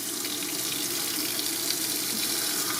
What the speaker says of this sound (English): Run the hot water here.